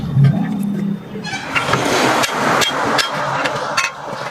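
Hammer blows seating a tyre onto a wheel during a tyre side change in a repair shop, several sharp knocks spread irregularly over a steady mechanical background, fairly close.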